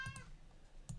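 A house cat gives a short, faint meow close by in a quiet indoor room, followed by a small chirp or bump.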